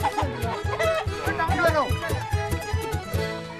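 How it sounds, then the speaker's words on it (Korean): Chickens cluck in a busy Himalayan mountain village as a group of men chase one, with the voices and commotion of the crowd close by throughout. "닭 한 마리를 잡기 위해 장정 8명이 나섰는데요."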